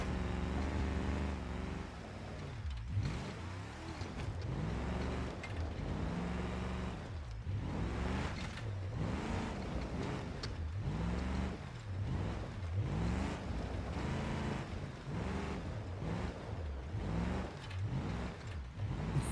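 A simulated car engine in the driving game BeamNG.drive revs repeatedly in a steady rhythm of rising and falling pitch, loud and continuous, with no talking.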